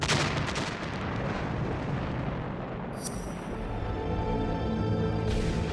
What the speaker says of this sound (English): It triggers an enormous explosion.